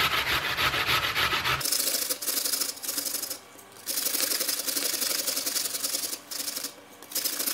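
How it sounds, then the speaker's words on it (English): A peeled apple rubbed against a kitchen grater, giving close, steady rasping strokes with a few brief pauses between passes. "just get your grater and just grate all of the apple."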